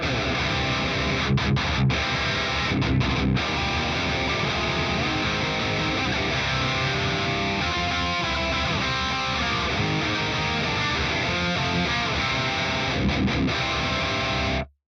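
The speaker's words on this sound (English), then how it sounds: "If I turn all this stuff off and we just hear the kind of raw amp and cab sound" Heavily distorted electric guitar plays chunky, chugging riffs through a raw amp and cab sound from a Fractal FM3 with effects off, dense and loud throughout, cutting off abruptly at the end.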